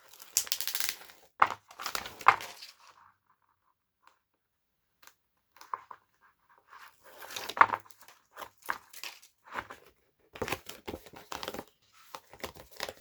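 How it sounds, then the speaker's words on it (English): Adhesive backing paper peels away from a mini album hinge in scattered crinkly, papery bursts with quiet pauses between them, close up and fairly soft. "Okay, so I'm going to peel this off."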